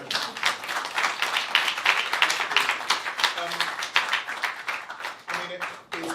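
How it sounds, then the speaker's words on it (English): Audience clapping at the end of a fine art and mixed media panel talk, a lively stretch of close, uneven hand claps with brief voices mixed in near the end. "We will clap."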